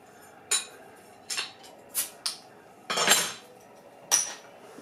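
A bottle of Founders CBS imperial stout is handled and opened, giving several separate sharp metallic and glassy clinks spaced irregularly, close and fairly loud against a quiet background.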